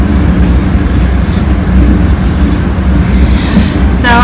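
Riding inside a train, a loud, steady low rumble of wheels and carriage noise fills the whole stretch, with a brief squeal near the end.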